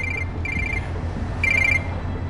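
A telephone rings in an indoor scene, three electronic trilling bursts with short gaps between them, clear and fairly close over a low room hum, with no voices.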